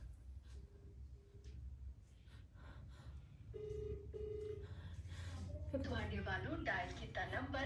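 Faint phone ringback tones of an unanswered call sound in short paired beeps under a low hum, followed by someone talking close by.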